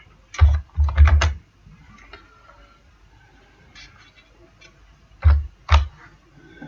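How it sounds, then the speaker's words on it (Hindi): Computer keyboard typing an item description into restaurant warehouse software, two short bursts of clustered clicks separated by a quiet pause, fairly close and with no talk over them. "डिस्क्रिप्शन में हम लिखते हैं मिसाल के तौर पे मटन"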